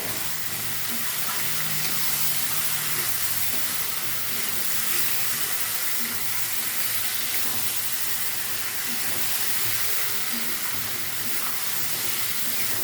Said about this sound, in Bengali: যতক্ষণ না মশলা থেকে তেল বেরোচ্ছে ততক্ষণ এটা কষাবো।